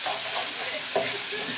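Chickpea mash being stirred in a hot cast iron pan, with a steady low sizzle and a few scraping strokes of the utensil close by, no voices.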